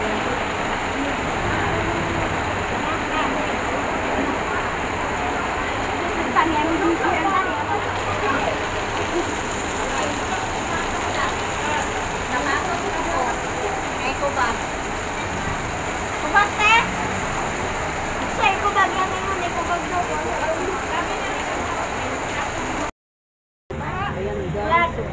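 Heavy rain with wind in Cagayan de Oro City roars steadily as a dense broadband hiss, continuous throughout with a brief dropout near the end.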